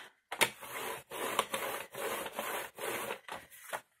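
Paper being creased and cut for a handmade drawer craft, a series of short scraping, rubbing strokes repeating in a steady rhythm, close and fairly quiet with no talking.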